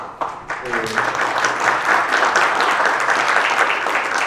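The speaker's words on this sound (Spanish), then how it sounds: "Un aplauso." An audience at a public forum breaks into sustained applause, dense steady clapping that swells and holds after a brief voice at the start.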